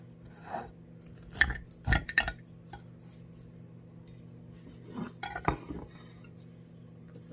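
A knife scrapes and clinks against a pan while spreading butter over hot, golden-brown, crispy cornbread, made North Carolina style with no sugar. The scrapes come in a few short, close bursts with quiet gaps between them.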